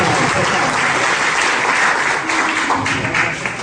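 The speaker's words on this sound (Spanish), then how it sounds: "Un aplauso para ustedes mismos por haberse dado la oportunidad." An audience at a product launch presentation breaks into loud, dense applause, a continuous wash of clapping that holds steady and then eases slightly toward the end.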